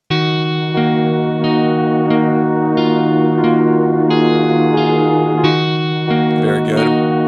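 Karanyi Sounds Midnite synth preset Aftermath plays a sustained, richly harmonic chord, re-struck about every seven tenths of a second with soft attacks, heavy echo and effects blurring each note into the next, loud and alone.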